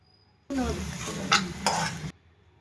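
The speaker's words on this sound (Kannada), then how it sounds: "ಇದ್ರಾಗ ಗೋಡಂಬಿ ಫ್ರೈ ಮಾಡಿಟ್ಕೊಳ. ಶೇಂಗಾ ಕಾಳು ಫ್ರೈ ಮಾಡಿಟ್ಕೊಳ." Cashews and peanuts frying in melted ghee in a pan: a brief burst of close sizzling with clattering spoon-against-pan stirring, lasting under two seconds between quiet stretches.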